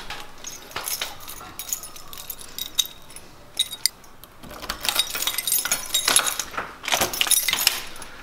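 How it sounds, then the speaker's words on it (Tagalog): Metal keys jangle and clink in bursts while someone searches for a house key at an apartment door, close and fairly loud, with short pauses between rattles. "Hanapin ko lang yung susi ko."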